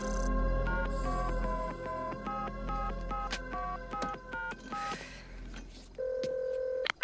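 Telephone keypad dialing a number, a quick series of distinct DTMF tone beeps in steady succession, then a held tone, close and clear over a low hum.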